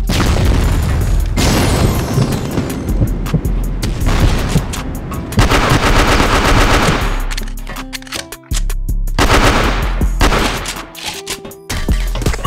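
In the CrossFire video game, a grenade booms amid dense bursts of automatic gunfire, loud and close, with heavy rapid volleys broken by brief gaps and a steady rumbling low end.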